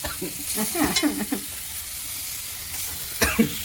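Fish fries in masala in an iron pan, crackling and sizzling close by, with scraping and stirring clatter in short bursts and a louder burst near the end.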